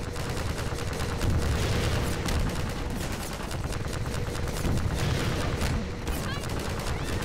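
Enemy gunfire in the video game Half-Life 2: rapid, dense bursts of shots and automatic fire crackle continuously, loud and close, with a player's voice speaking over the shooting.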